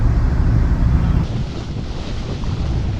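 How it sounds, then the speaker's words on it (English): Strong wind roars across the microphone while windsurfing at sea near the entrance to Portsmouth Harbour, a loud, constant buffeting rush with low rumble and the wash of water beneath it. "this wind coming down from Southampton Water"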